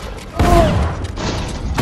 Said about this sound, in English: Everyone's shooting me!